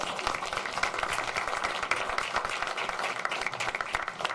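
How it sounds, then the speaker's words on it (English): An audience at a governing board meeting gives a round of applause, a steady wash of many hands clapping at moderate volume, continuous throughout. "let's give them a round of applause"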